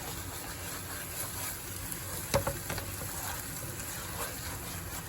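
Masala frying in ghee in a pan while being stirred, a steady close sizzle with a few louder scrapes and crackles partway through, no voices.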